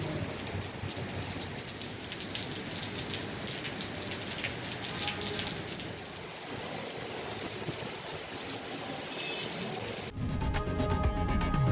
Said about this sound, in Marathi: पावसाला सुरुवात झाली आहे